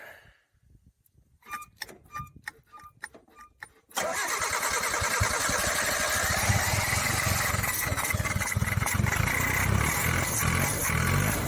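A 1986 Suzuki Samurai with Weber carburetor trouble gives a few faint clicks and ticks, then breaks into a loud, sustained, close-up cranking churn that carries on unbroken to the end.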